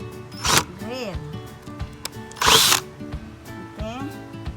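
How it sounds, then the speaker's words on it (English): A power drill whines in two short bursts, rising and cutting off, drilling a hole in a bucket, with a voice talking and mechanical clicks between them. "So I make a hole with this using my"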